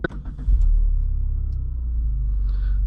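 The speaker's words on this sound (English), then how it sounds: "we are in the 2023 Subaru WRX GT, and it's time to take it on a drive" A 2023 Subaru WRX GT is on the move, its steady, deep engine rumble droning continuously from inside the cabin after a few soft clicks at the start.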